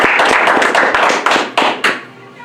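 An audience applauds, with dense close clapping that thins into a few separate claps and fades out.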